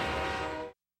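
Cartoon train horn blares loud and sustained for most of a second, then cuts off abruptly into silence.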